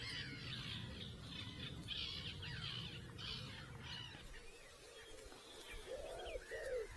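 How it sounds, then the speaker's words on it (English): Wildfowl and other birds calling around a lake beside fishing ponds, a mix of squawks and chirps. A low rumbling wind-like noise covers the first half, then it clears, leaving a few distinct calls near the end. "Probably hear all the bird noises."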